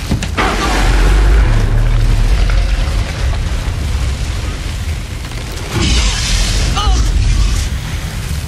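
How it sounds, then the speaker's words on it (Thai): A deep, rumbling explosion in Resident Evil Village swells and lingers, with a second low burst a few seconds later, loud and close, with game-style effects layered over it. "ระเบิด"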